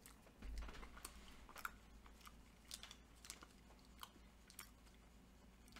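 Someone munches a Reese's Ultimate Peanut Butter Lover snack up close, with soft, irregular crunchy bites and mouth sounds that come in scattered bursts and carry no talk.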